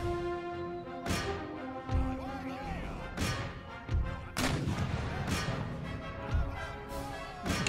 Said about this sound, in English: Get my artillery engaging.